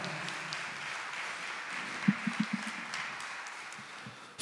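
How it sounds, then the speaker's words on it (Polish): Applause from the audience at a Christmas carol concert, a soft, steady patter of clapping heard fairly distant, with a few sharper knocks partway through. "Wielkie, wielkie brawa."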